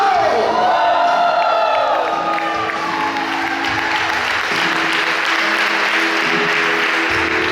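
A church congregation shouting and cheering during a Spanish-language sermon, a loud, sustained roar of voices with applause, whoops and a few speaking voices mixed in throughout.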